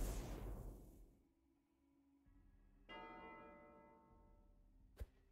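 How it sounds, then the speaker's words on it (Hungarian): Church bell ringing in the video game The Matriarch: a loud bright strike that decays over a second, then a quieter ringing tone with a second clang, followed by a sharp click near the end. "És harangozott"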